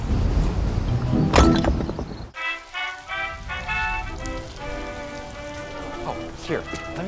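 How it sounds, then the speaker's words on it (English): Rain falls outdoors, a steady hiss that cuts out abruptly partway through, followed by a bright tonal sound mixed with further noise. "Let me see if I can help with the rain. Won't let up, will it?"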